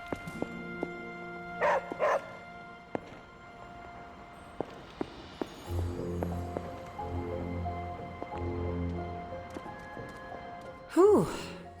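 In the video game Marvel's Midnight Suns, a dog gives a couple of short barks early on and one more near the end, set among game ambience, music and soft character sounds.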